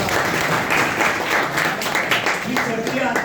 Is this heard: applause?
yes